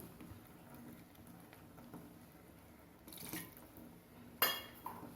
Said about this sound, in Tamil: இப்போது தண்ணி சேர்த்துக்கலாம்.